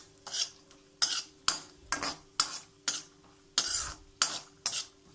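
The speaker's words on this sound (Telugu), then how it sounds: "ఇప్పుడు మనం కాజూస్ ఫ్రై చేసుకుందాం." Cashews frying in a pan while being stirred, a series of about eight sharp scraping strokes of a spoon against the pan in an uneven rhythm, each with a brief sizzling hiss.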